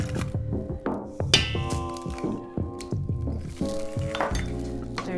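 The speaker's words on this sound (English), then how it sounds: "we're going to add 3 eggs. If you want to get fancy," Eggs cracked one-handed into a mixing bowl of roll dough, with a few sharp clinks of shell on the rim among soft wet squelches and brief drips, close and clear with no voices.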